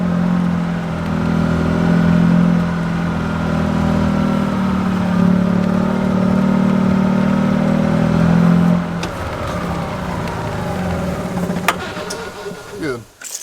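A Jeep driving along a creek trail toward a pond, with a steady close engine drone and rumble that drops off partway through, leaving lighter rolling noise and a few clicks.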